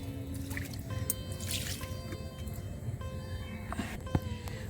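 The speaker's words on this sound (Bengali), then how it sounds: "আগে একটুখানি জল দিয়ে নিলাম" Water splashing and dripping onto a rooftop garden floor, a steady wet trickle with scattered drips and squishy splats, close by and moderately quiet.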